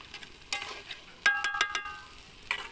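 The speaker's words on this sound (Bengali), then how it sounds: "এখন আমি মাংসটা দিয়ে মাংসটাকে ভালো মতো কষাবো।" Meat is stirred and sautéed in a spice paste that has released its oil. A few sharp spatula scrapes and clatters sound over a soft background sizzle, close and fairly quiet.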